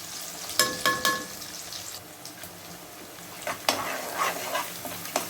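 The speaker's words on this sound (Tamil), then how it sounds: "வெங்காயம் வந்து நல்லா செவந்து வதங்கி வரணுங்க நல்லா செவந்து வதங்கி வரட்டும்" Small sambar onions sizzle in a hot pan while a utensil scrapes and stirs them in short, irregular strokes, close by with no talking.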